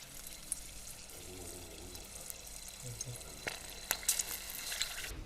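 Batter frying in hot oil at about 350 degrees for Southern cornbread, a soft continuous crackling sizzle with scattered sharper pops and clicks toward the end, fairly quiet overall.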